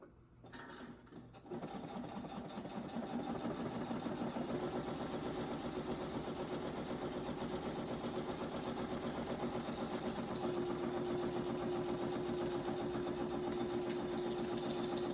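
A sewing machine stitches pockets onto a junk journal. After a brief start it settles into a steady, fast, continuous mechanical whir that stays close and even, with no talk.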